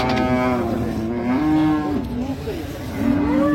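A dairy cow lowing at a rural cattle market in Dinajpur, two or three long drawn moos close by with crowd murmur and market noise behind.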